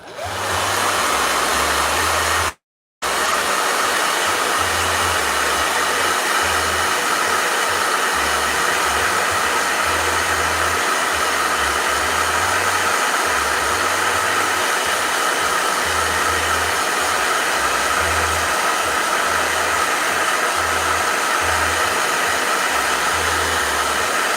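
A hair dryer blows steadily at close range with a constant loud whoosh and hum, briefly cutting out near the start before running on.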